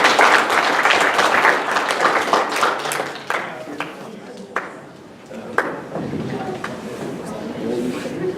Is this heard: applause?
yes